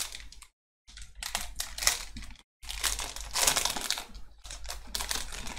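Crinkly foil wrapping of a Pokemon trading card pack is crumpled and torn open in bursts, with short pauses between the rustling handling noises, close up.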